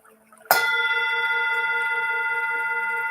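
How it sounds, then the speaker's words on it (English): A Buddhist meditation bell is struck once, giving a sharp attack followed by a long, steady, shimmering ring that sustains loudly without fading. "The meditation bell,"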